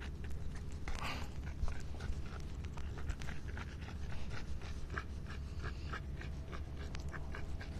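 A dog pants quickly and steadily at close range, with light paw steps and small scuffs mixed in over the whole stretch.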